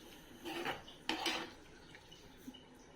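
Chicken liver fry being stirred in a pan with a metal spoon for a Nellore-style recipe, giving a few faint scraping clinks and soft shuffles in a quiet kitchen.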